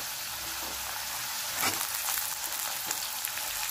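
Potato pieces frying lightly in a pan for a pointed gourd and potato curry, a quiet, even hiss of oil with a few soft stirring scrapes, no voices.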